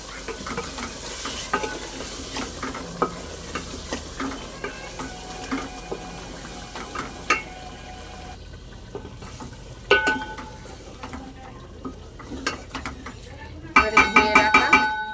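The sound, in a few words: sautéing chana dal with potatoes in a pan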